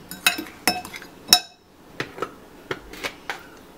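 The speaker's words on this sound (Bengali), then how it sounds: "এখন ডিমটাকে আমি বেশ ভালো করে আগে ফেটিয়ে নিচ্ছি" Eggs being beaten in a bowl for savory semolina pitha, a brisk series of sharp clinks of utensil against bowl, irregular and close, with quieter taps between.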